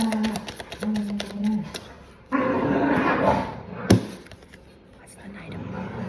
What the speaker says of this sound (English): my dogs are getting crazy